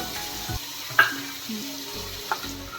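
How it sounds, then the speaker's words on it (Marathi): Cumin seeds and ginger-garlic paste go into hot oil, giving a steady close sizzle broken by a few sharp spits and clinks of a spoon against the pan. "तेल गरम झालेलं आहे, त्यामध्ये आपण जिरे टाकूया, आलं लसूण पेस्ट टाकूया"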